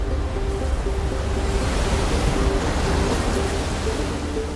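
Large ocean waves break at Wedge, a shallow sand-bottom beach break in California, as a steady, dense roar of surf with wind noise and no voices.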